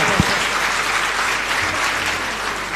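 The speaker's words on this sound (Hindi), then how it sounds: "जरा तालियां बजा दो इसी बात पर।" An audience claps steadily through a Hindi spiritual discourse on the Navkar mantra and the guru, a dense, even wash of many hands that holds at full strength from start to finish with no voice over it.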